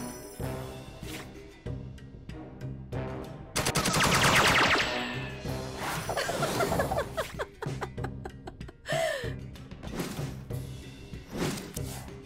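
Bursts of gunfire in the mobile shooter Pesar Khande, with clustered shots and a heavy volley mid-clip amid game effects and music, loud and close.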